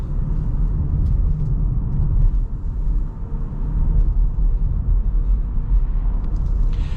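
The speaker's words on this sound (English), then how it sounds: "Going over some bumps and things, the suspension definitely is more of a comfort setup." A 2024 Kia EV6 Wind AWD driving over bumps, with a steady low rumble of road and tyre noise heard from inside the cabin, loud and continuous for the whole stretch, with no talking.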